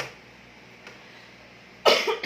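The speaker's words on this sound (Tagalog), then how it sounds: "Inuubo talaga ako guys." A faint, quiet room is broken near the end by a single sharp cough, loud and close.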